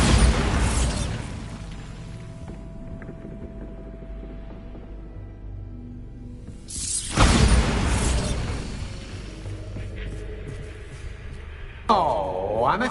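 Bombarda spell explosions in Hogwarts Legacy, a burst with a loud bang near the start and another around seven seconds, followed by rumbling debris and a swooping magical whoosh near the end.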